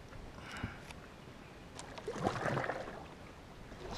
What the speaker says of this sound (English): we is now kayaking through the woods, trying to get around this giant log jam